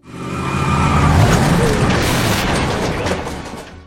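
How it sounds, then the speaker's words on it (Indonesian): A car possessed in a film skids with squealing tires and rams a man walking home at night, a loud close screech swelling then fading over about four seconds. "Dalton yang sedang berjalan pulang tiba-tiba dihajar sama mobil"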